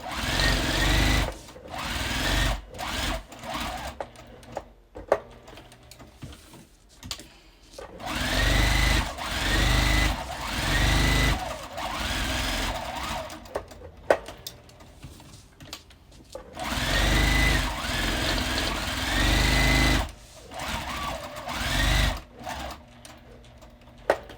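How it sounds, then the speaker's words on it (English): A sewing machine stitches around the foam edge of a quilted bag in several long, steady whirring runs, each several seconds long, separated by pauses with handling clicks, close up and fairly loud. "I'm going to stitch all the way around the outside of the foam to keep it from coming up"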